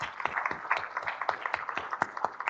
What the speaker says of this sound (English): Can we have a round of applause for the three